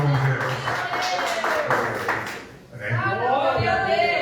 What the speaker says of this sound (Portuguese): Dá uma salva de palmas bem alegre para o Senhor Jesus